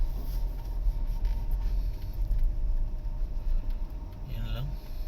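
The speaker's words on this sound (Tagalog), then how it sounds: "Sobrang traffic na agad." Heavy Saturday-morning road traffic on Katipunan near White Plains rumbles steadily and close, a dense low drone of idling and creeping vehicles with occasional voices mixed in.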